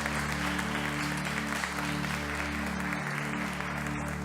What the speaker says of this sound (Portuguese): Então aplauda bem forte a Jesus aí.